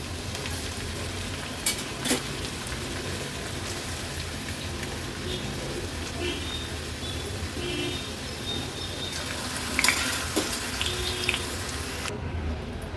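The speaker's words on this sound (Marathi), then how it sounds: "अशाच पद्धतीने उरलेले चिप्स आपण सगळे तळून घेणार आहोत" Potato chips for a fasting snack deep-frying in hot oil in a pan, a steady, dense sizzle and bubbling that runs continuously at moderate loudness, with a few faint clinks.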